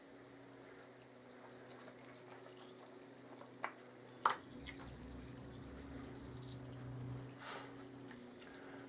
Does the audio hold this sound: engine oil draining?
yes